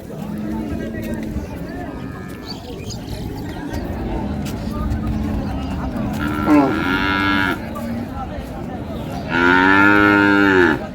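An Australian Friesian cow lets out two long, loud moos close by, one midway and one near the end, amid background chatter from people at a cattle market in Raniganj, Dinajpur.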